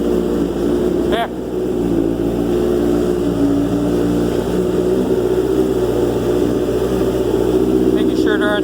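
A Banshee quad fitted with a ZX7R 750cc engine idles after its first start in over four months, holding a steady, loud buzzing drone with brief throttle blips near the start and end.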